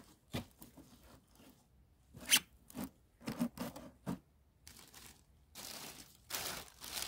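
Thin plastic vinyl sheeting crinkles and rustles in short bursts over potted geranium cuttings, with several scattered handling rustles and a louder, denser crinkle near the end; no speech.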